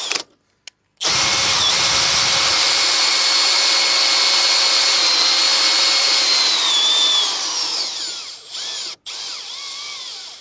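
A power drill drives an RV camping trailer's stabilizer jack down to the ground, a loud steady whirring motor running continuously for most of the stretch before slowing and stopping near the end.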